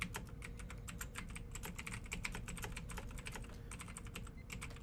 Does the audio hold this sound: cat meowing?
no